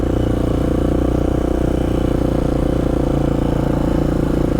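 A dirt bike engine held in first gear at low trail speed, a steady droning rumble with a constant throb and light clatter, close and unbroken throughout.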